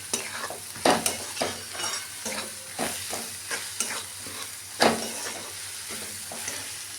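Vegetables for homemade fried rice, seasoned with rice masala, stirred in a hot pan: a steady sizzle with repeated scraping strokes of a spoon at irregular intervals, close and moderately loud, with no talking.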